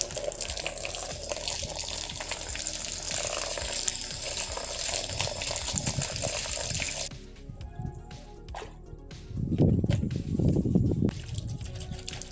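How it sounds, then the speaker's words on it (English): Water splashes and pours nearby onto rubber and carpet car mats, running steadily at first, then stopping before a few louder sloshing, squishy bursts near the end. "First, thoroughly wet the car mats with water."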